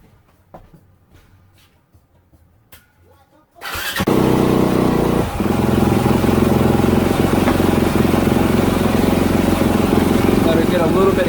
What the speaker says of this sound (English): Let me give her one more fire up and just make sure everything's good there.